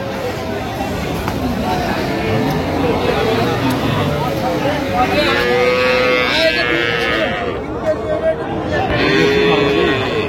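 Cows and calves moo at a busy rural cattle market, several drawn-out lowing calls rising over constant crowd chatter and people talking close by.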